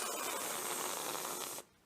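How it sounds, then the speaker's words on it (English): Whipped cream sprays from an aerosol can onto a slice of bread for a no-bake vegan strawberry dessert, a steady loud hiss lasting well over a second and a half before cutting off, with no talking. "Spray whipped cream around the edge."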